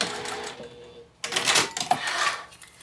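A sewing machine runs along a lunch tote seam, starting after a short pause into a steady, fairly loud mechanical whir with rapid stitching clatter, close by.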